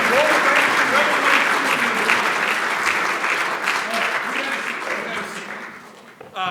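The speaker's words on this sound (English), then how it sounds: "stand up and give Kathy, Gerard, GBA Global, everybody a quick round of applause" Sustained audience applause at a banking and regulation panel, a dense roomful of clapping that holds strong and then gradually tapers off near the end.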